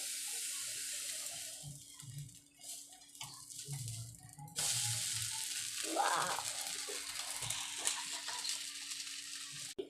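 Oil is poured over dough frying in a pan, and a steady hiss swells louder partway through, with faint clatter and bubbling close by and no voices.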